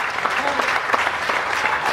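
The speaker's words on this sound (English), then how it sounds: "We applaud them." An audience at a cancer survivors' day event applauds steadily, a dense patter of many hands clapping at close range for the whole moment, with some voices mixed in.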